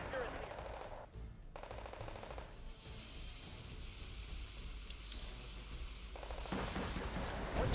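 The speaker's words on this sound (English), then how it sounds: "Prowlers taking fire from these AA units" Anti-aircraft units fire in the Wargame Red Dragon strategy game, a faint, distant rattle of automatic gunfire in bursts beneath low background noise.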